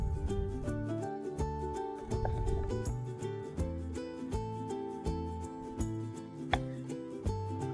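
A knife chops pink tomatoes on a board in steady, sharp taps over soft background music.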